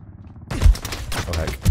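Burst of gunfire in the online shooter Ring of Elysium, rapid loud shots cracking close by after a moment of quiet, with a couple of heavy low thumps in the mix.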